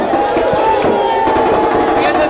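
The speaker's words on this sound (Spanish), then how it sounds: "siguen tirando fuegos artificiales" Fireworks crackle and pop in rapid bursts through the crowd noise of a football stadium during a friendly between Liverpool and Colo Colo, with chatter and voices mixed into the steady din.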